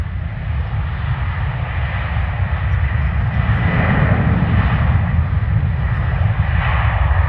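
A passenger jet flies over Manchester Airport, its engine noise a steady, loud, broad roar that swells slightly partway through and holds without pause.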